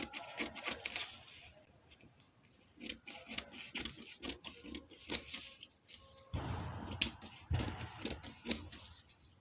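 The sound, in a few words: cutting fabric for a cape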